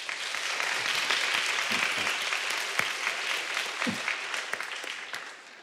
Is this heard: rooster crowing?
no